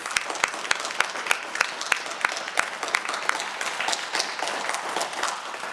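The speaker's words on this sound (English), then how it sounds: "thank you to all our candidates. Let's give them all a round of applause." Audience applause after a candidate forum for Iowa District 4, a dense spread of clapping with some sharper individual claps standing out, steady and fairly loud throughout, with no talking over it.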